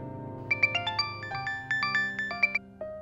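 A phone ringtone plays an electronic melody of bright, rapid tonal notes in a quick rising and falling pattern, clear and alone with no talking.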